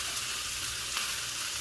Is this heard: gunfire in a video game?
no